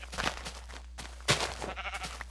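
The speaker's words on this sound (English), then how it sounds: "Took me a while to kill that sheep" Sheep bleating in Minecraft, a few short wavering bleats close by, spaced across a couple of seconds over a low steady hum.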